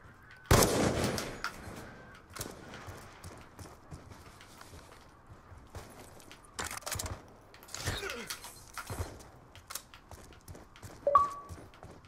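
Video game gunfire: a few sharp shots scattered between quieter stretches, one loud burst near the start and others further on, set against faint background game noise.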